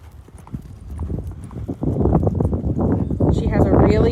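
An eight-year-old POA pony mare lopes under saddle, her hoofbeats a steady rolling rhythm under a voice speaking over them, moderately loud and close.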